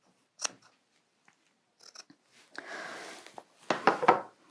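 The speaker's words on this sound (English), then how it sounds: "so we're cutting these pieces apart" Scissors snip through quilting fabric pieces in a few separate cuts, with a longer rustling slice and a cluster of crisp snips near the end, close and fairly quiet with no talking.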